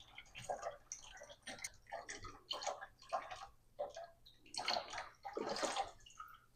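Water splashes and gurgles in bursts as a planted shrimp aquarium is drained to about half level, close up and continuous with uneven surges.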